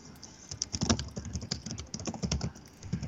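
Rapid computer keyboard typing, close and fairly loud, a run of irregular clicks and key taps with brief pauses, no talk over it.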